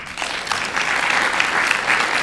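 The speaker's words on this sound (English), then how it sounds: "I got a clap there" An audience at a community assessment event bursts into applause, a dense, even wash of clapping for a couple of seconds, loud and close with no voices over it.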